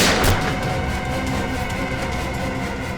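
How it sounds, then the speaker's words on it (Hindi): In a TV crime drama, one sharp gunshot-like blast cracks out inside a room near the start, followed by a sustained rumbling, echoing din. "इस कमरे से गोलियां चलने की आवाज आ रही है।"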